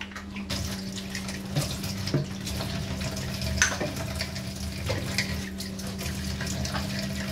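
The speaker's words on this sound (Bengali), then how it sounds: "এই বোতলগুলো প্রতিদিনই একটু ব্রাশ দিয়ে এরকমভাবে ঘষে দিই" School water bottles are scrubbed with a brush under running tap water at a kitchen sink, a steady close stream with intermittent rubbing and knocking sounds and no talk.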